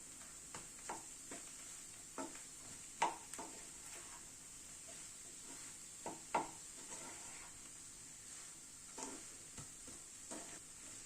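A spoon stirs a pan mixture of chaat masala and breadcrumbs over a flame, giving soft irregular scrapes and taps over a faint steady sizzle.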